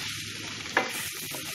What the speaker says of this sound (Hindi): आलू डालकर मिक्स करेंगे अभी